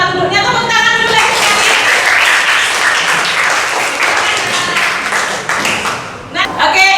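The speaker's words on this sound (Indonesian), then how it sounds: "Tepuk tangan dulu ya." A classroom of students applauds a student group, dense clapping that builds and holds for several seconds, then thins out as a teacher's voice talks over the tail end.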